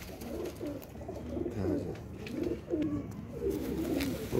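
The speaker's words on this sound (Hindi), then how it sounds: "उस्ताद और ने जी कबूतर थोड़े से रखे हैं, लेकिन अच्छे कबूतर रखे हैं।" Pet pigeons kept by a hobbyist coo repeatedly in soft, low, rolling phrases, close by and steady, with no talk over them.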